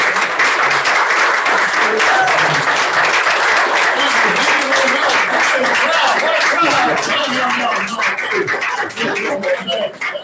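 A standing audience applauds to welcome a District Governor at a service-club meeting, producing dense, steady clapping that fills the room for about ten seconds before thinning toward the end.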